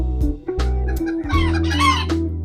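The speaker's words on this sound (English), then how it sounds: "There's some cockerels in here getting close to" Young rooster cockerels in a farm pen in eastern Kentucky clucking and squawking up close, a run of loud overlapping calls with short breaks between them and no talk.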